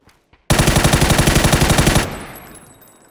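Rapid automatic gunfire in a shooter video game, a loud sustained burst of evenly spaced shots lasting about a second and a half, then a reverberant decay, with no talking.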